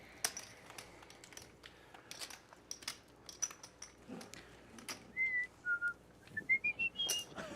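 A person whistles a tune, clear, close melodic notes in short phrases and slides, growing louder and more sustained toward the end, with faint clicks in the background and no talking.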